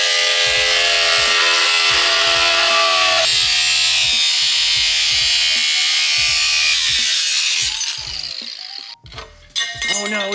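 A loud power tool cuts through the frame rail of a Skyline chassis with a steady high buzzing whine that keeps going for about eight seconds, then cuts out into a few sharp bursts, with voices heard around it.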